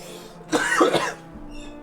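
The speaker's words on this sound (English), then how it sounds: "I lean away from the microphone when I need to cough." A single brief cough, close and fairly loud, with quiet room tone on either side.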